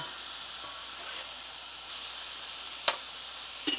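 A burger patty sizzles steadily in a very hot pan, giving a loud, even hiss throughout. A couple of sharp clicks or scrapes from a utensil come near the end.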